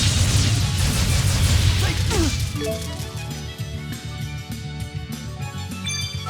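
Fire attack from the anime Tales of Xillia: a loud burst and crashing blast that fades into a lower rumble as music takes over.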